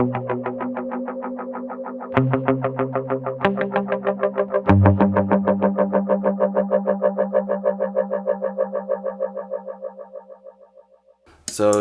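Guitar notes run through a UAFX Galaxy '74 tape echo pedal set to dotted sixteenth and dotted eighth repeats, each picked chord blooming into rapid stacked echoes that pulse rhythmically and fade out before a final strum.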